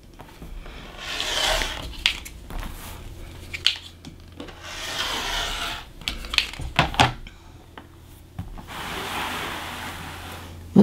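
A rotary cutter slices quilt block fabric along a ruler in repeated short, scraping strokes, with soft rubbing and tapping sounds between the cuts and no talking.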